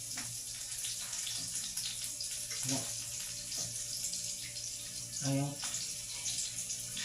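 Water runs steadily from a tap in a home kitchen, a constant close hiss and splash, with a few brief spoken words over it.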